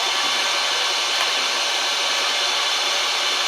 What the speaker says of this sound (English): this motor should not be running, but it does.